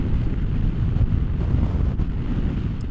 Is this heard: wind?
yes